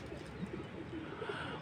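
In a loft housing a small flock of twenty-odd racer and Giribaz pigeons, soft low cooing comes through faint background noise in a short, quiet burst.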